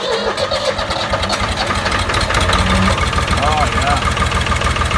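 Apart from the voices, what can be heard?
Case 380ck tractor engine starting and idling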